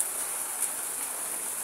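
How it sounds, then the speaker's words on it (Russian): Warm rain falls steadily outdoors at a constant hiss, with one faint tap partway through and no voices. "Вначале прям теплый, отличный дождь."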